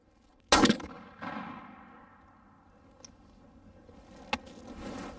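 A 12 gauge shotgun fires a Federal copper-plated buffered BB load into a ballistic gel block, giving one loud, sharp near blast that rings off and decays, followed by quieter clanks and a faint metallic tick.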